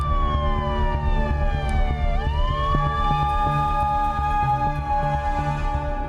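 Emergency vehicle sirens wail loudly at the Tejas jet crash site at Al Maktoum Airport in Dubai, several overlapping tones sweeping down and back up over a steady low rumble, with no voices.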